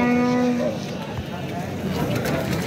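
A cow lowing at a livestock market in Mastchoh, a low sustained moo at the start over a noisy crowd of talking people.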